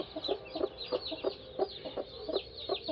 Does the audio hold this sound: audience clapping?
no